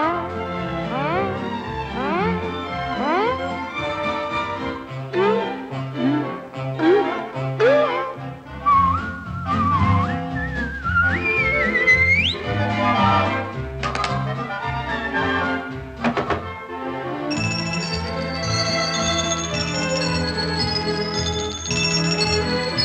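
Melodic whistling from a Disney song, bright wavering pitch lines gliding over orchestral accompaniment and singing, loud and continuous throughout.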